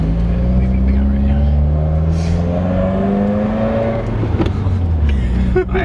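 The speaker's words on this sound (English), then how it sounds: "I heard your car coming." A tuned 2017 Subaru WRX rumbles with a low, steady engine note whose pitch climbs and falls as it revs, loud and close, with voices talking over it.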